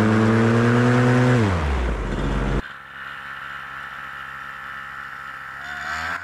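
A paramotor engine revs up for takeoff with a rising, buzzing whine, then drops and settles into a steady loud drone with a propeller hum.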